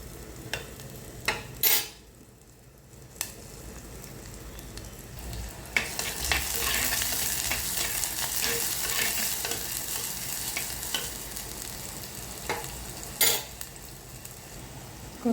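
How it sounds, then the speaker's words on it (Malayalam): Chopped shallots sauté and sizzle in a pan while a spoon stirs and scrapes, with steady frying hiss and a few sharp utensil clatters, close and without talk. "വാടുന്നവരെ ഇങ്ങനെ ഇളക്കി കൊടുക്കുക."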